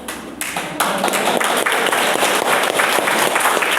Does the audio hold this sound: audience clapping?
yes